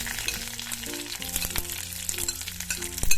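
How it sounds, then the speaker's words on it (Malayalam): Chopped shallots sautéing in a pan over a low flame for a jackfruit thoran, a continuous gentle sizzle with occasional stirring clicks and scrapes, close and alone. "ചെറിയുള്ളി ചേർത്ത് കൊടുത്തിട്ട് നന്നായി ഒന്ന് വാട്ടിയെടുക്കാം"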